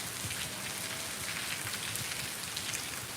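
Heavy rain falls onto farm fields as a constant, thick wash of hiss with faint pattering texture, moderately quiet and uninterrupted, with nobody speaking.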